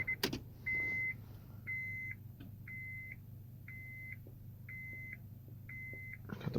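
A 2001-2005 Honda Civic dashboard chimes during immobilizer key programming after the ignition is turned on, six evenly spaced electronic beeps about a second apart over a low idle hum, with a few clicks at the start and end.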